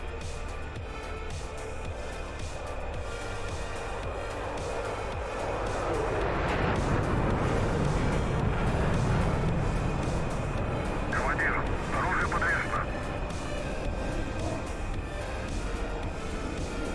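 A MiG-29 jet in the DCS flight game throttles up, its engine roar swelling into a broad, steady rumble that holds loud to the end, with people talking over it.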